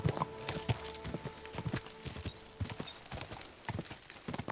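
Rapid clip-clop of horse hooves galloping close by in the video game Kingdom Come: Deliverance II, irregular thuds with jingling, loud and busy, no voices.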